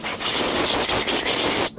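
A steady, close hiss of carburetor cleaner aerosol sprayed onto a snowblower carburetor blasts continuously, with brief dips in the rush before it cuts off abruptly.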